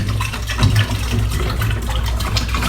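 No-rinse cleanser is stirred into water for home beer brewing, a loud, steady swirling and sloshing of liquid close by, continuous throughout without talk.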